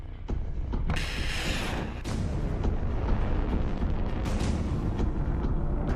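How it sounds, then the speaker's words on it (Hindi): A Russian Moskit anti-ship missile launches with a loud roaring blast, an initial boom followed by a sustained, rumbling rocket roar that stays strong across the whole stretch, with no voices. "पुतिन यहाँ मॉस्किट मिसाइल लॉन्च कर रहे हैं जो एंटी शिप रोल में बहुत घातक मिसाइल मानी जाती है"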